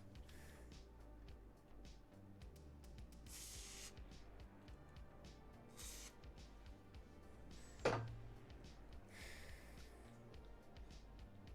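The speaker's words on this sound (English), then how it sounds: "Brake cleaner." Aerosol can of brake cleaner sprayed in a few short bursts, hissing over a low background hum.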